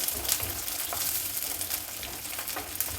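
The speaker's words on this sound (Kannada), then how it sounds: "ಸಾಸಿವೆ ಸಿಡಿತಾ ಇದೆ ಈರುಳ್ಳಿ ಹಾಕ್ತಾ ಇದ್ದೀನಿ" Chopped medium onion and popping mustard seeds sizzle steadily in hot oil for a village-style brinjal dish, a close, continuous crackling fry with occasional sharper pops and stirring, no talk.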